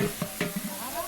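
Whole garam masala spices, including black and green cardamom, cinnamon and cloves, fry with browning onions in a pan for beef rezala. A short burst of close sizzling carries a few quick clicks of stirring.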